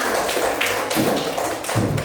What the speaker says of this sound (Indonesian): Dan tepuk tangan anakku semua